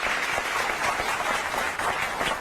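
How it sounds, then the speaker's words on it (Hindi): A studio audience at a televised innovation show claps loudly and steadily, a brief, dense burst of applause filling the whole moment without speech. "उनके लिए जोरदार तालियां आप ही की तरफ से"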